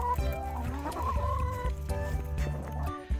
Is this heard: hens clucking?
yes